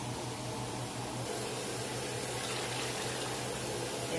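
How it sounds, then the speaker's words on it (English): Water poured steadily into a skillet to cover hamburger steaks on the stove, a continuous close rushing splash that holds at an even level throughout with no talking. "I'm going to bring more water over, because I'm going to need more to cover those steaks."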